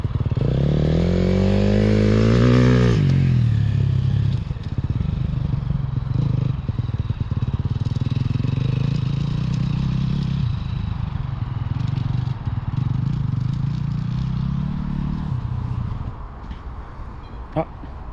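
Motorcycle ridden on winding country roads at dusk, the engine loud and close throughout, revving up through a rising pitch sweep early on, then holding a steady droning pull with gear changes before easing off near the end.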